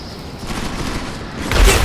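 Gunfire in the video game Deus Ex: Mankind Divided, a dense, noisy burst of shots over a steady rumble that swells louder near the end.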